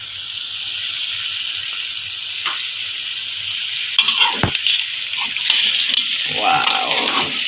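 Water poured into a pan of bat rica-rica curry with coconut milk hisses into a steady, close sizzle and bubbling. Stirring clatters and splashes come and go over the frying noise.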